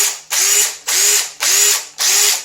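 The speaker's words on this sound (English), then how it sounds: "this is one of my main tools for spinning off lug nuts and other work" A cordless impact driver spins lug nuts off a BMW wheel in four rapid bursts, each a loud rising whine with rattling hammer clatter, separated by brief pauses.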